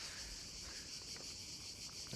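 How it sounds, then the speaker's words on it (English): Steady high-pitched insect buzzing fills the air continuously on a Montenegro hillside, a dense cicada chorus droning without pause. "Can you hear all the cicadas?"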